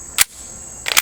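Two sharp snaps from an EMG SAI Blu airsoft training pistol firing BBs at a steel target, each shot cracking with a bright metallic ping, spaced about three-quarters of a second apart, near and clear over quiet background.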